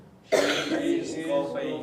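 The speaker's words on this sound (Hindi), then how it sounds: "किसी ने बताया सर वो खांसी कर रही है" A sudden harsh cough bursts out, then trails into a rough, throaty rasp that lasts over a second, close and fairly loud.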